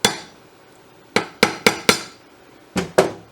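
Sharp metallic hammer blows on a lathe compound slide being modified: an isolated strike, then three quick hits, then two more, each ringing briefly, close and clear with no talk.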